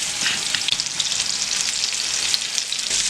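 Meatballs searing in a frying pan give off a steady, close, dense sizzle with faint crackles and pops throughout, with no talking.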